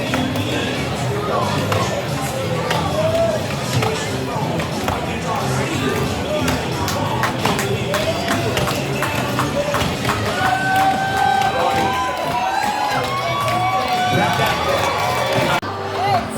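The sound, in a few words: axe chopping in springboard chop logging event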